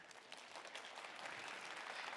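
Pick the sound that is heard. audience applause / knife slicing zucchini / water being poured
audience applause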